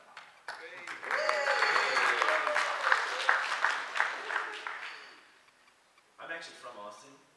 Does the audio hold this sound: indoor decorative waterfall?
no